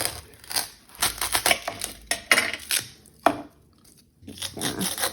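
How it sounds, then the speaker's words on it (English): A serrated knife saws through a carrot in a kitchen, giving a series of sharp crunching cuts with short pauses between strokes, close and fairly loud with no voices. "I'm going to take my serrated knife and then cut it"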